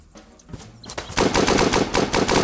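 Loud, rapid gunfire in Apocalypse Rising 2 at a military airfield: after a quieter opening, a dense burst of shots begins about a second in and continues to the end.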